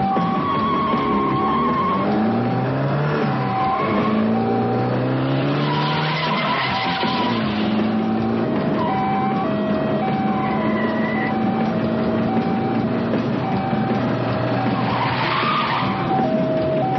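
Movie car chase with skidding, squealing tyres and engines racing, loud and continuous, with siren-like tones wailing through the scene.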